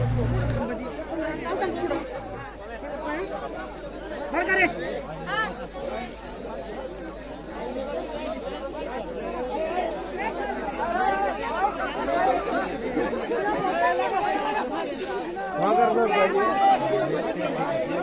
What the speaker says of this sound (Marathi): या ठिकाणी देखील भरपूर गर्दी भाविक भक्तांनी केलेली आहे